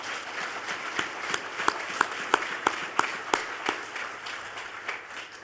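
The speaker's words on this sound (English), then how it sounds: "we can clap for that." Applause at a college football head coach's introductory news conference, a modest crowd clapping with several sharp individual claps rising above the rest before it fades out.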